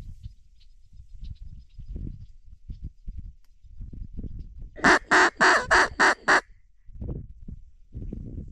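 Wild ducks call over a public-land pothole during a hunt, a loud burst of five or six rapid honking quacks close by, set between quieter low thumps and rustling.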